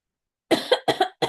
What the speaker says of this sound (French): Je tousse entre-temps.